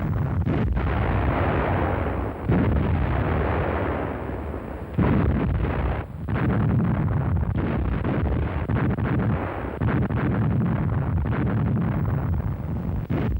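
A German 21 cm Mörser heavy howitzer fires alongside 150mm heavy guns in autumn 1943, its deep booms rolling over a constant loud rumble, with sharper blasts landing near 2.5, 5 and 6 seconds and no voices.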